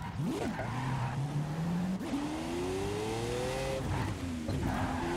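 A car in the Forza Horizon 5 racing game brakes and skids, its engine note swooping and climbing over a sustained tire-squeal drone at moderate volume, with no talk heard.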